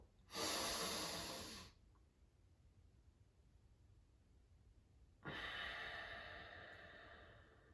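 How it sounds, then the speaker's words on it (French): Slow, deep breaths during a guided heart-opening meditation: a long, loud airy exhale, a quiet pause, then another strong breath swelling up, close and unaccompanied. "Expire, inspire à nouveau et encore une fois."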